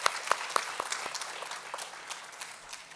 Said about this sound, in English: Let's give our speakers one more big round of applause for their amazing work